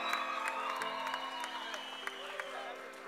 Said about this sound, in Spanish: Un aplauso para el muchacho.